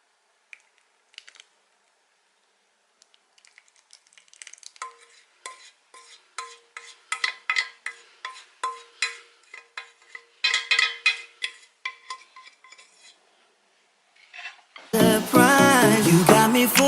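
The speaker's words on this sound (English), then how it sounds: "Now you're going to mix your wet stuff and dry stuff together." Wet and dry ingredients for homemade protein bars are stirred together in a bowl, making close, rhythmic scraping and squishing strokes that quicken and grow denser, before music cuts in at the end.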